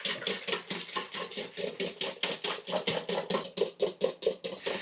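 Egg yolks, whole eggs and water being whisked together in a bowl for puff pastry dough, a fast, steady run of rhythmic clicking strokes about four per second, close and clear with no talk.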